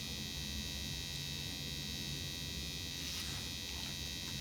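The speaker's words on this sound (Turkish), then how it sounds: "Tıraş makinesi." An electric shaver buzzes in a bathroom scene of the video game Heavy Rain, giving a steady, high, faint hum under a continuous low background drone.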